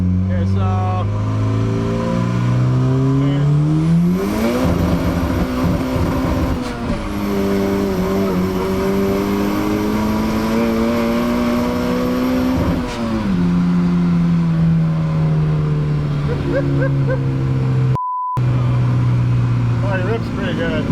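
A Volvo fitted with a Cummins Holset turbo, M46 gearbox, revs hard at full boost in second and then third, the engine note climbing loud and close, dropping at a gear change and rising again.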